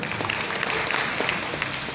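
An audience claps in a dense, steady burst of applause for a couple of seconds.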